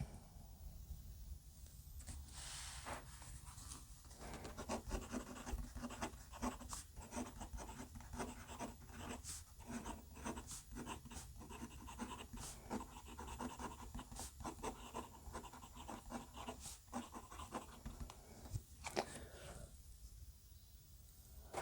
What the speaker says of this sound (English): Okay, so look, this is pretty scratchy.